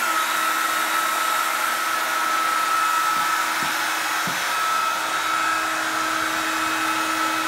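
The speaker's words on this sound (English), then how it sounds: "we're gonna turn the spindle on" A Millright CNC router spindle runs at steady speed, giving a continuous whirring whine with an even airy roar. It plays alone, with no talking.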